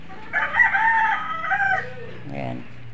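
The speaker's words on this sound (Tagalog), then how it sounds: "Maingay yung mga manok" Chickens on a rainy day crow and cluck noisily in a rural yard, a drawn-out crow followed by shorter clucking calls, close and fairly loud with faint background noise.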